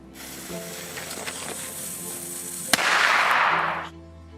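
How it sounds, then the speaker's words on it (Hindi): A single sharp firecracker held between fingers bangs out close by, followed by a loud hissing burst of smoke and sparks that fades after about a second. "इस बार हम इस लड़ी में से बड़ा पटाखा लेंगे और फिर से हरी बाती लगा देंगे।"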